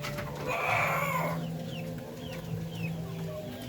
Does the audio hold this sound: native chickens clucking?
yes